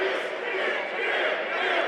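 A wrestling crowd at an NWL Kansas City show cheering for Red Cloud, a steady loud roar of many voices with no breaks.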